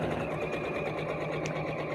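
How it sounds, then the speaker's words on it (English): Sewing machine stitching a curved fabric seam at a quarter-inch allowance, a fast, even mechanical whirr running steadily and close throughout, with no voices. "And just carefully sew around the curve."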